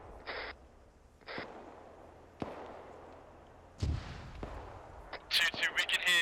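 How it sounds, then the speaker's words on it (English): Distant indirect fire launched from inside a town during a military field training exercise: a few sharp, far-off booms spaced seconds apart with a faint low rumble, ending in crackling radio chatter. "we can hear IDF being fired from inside the town."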